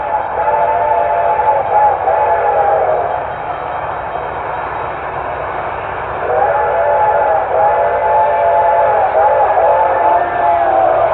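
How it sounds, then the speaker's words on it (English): An approaching train in an old-time radio suspense drama: a loud, sustained, wailing whistle sounds twice over a steady rolling rumble, all narrow-band and lo-fi like a vintage broadcast. "The train was coming closer. I could hear its bell ringing and the cry of its whistle."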